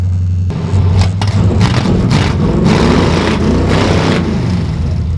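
An old custom Chevy C10 Suburban engine runs rough while missing cylinders, a loud, uneven low rumble with irregular surges and stumbles, recorded close by with no voices.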